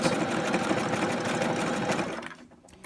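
A sewing machine stitching a straight seam on a tote bag, a rapid rhythmic close mechanical chatter running steadily before slowing and stopping near the end, with no voices.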